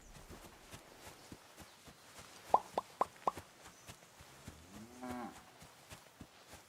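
Cows mooing in a village in the video game Kingdom Come: Deliverance 2, a few short low moos near the middle among quiet ambient game sounds with a couple of sharp plops, plus a softer drawn-out moo later.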